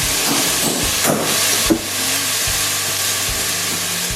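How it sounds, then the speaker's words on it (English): Garlic, onions and peppers sautéing in a pan for chicken chili, a steady close sizzling hiss with a couple of brief clatters, no talking. "So the onions can get sautéed a little bit along with the peppers."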